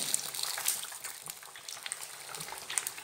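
Fish fillets sizzle and crackle in hot oil for homemade fish and chips, a dense steady frying hiss with scattered sharp pops, close and loud throughout with no talking.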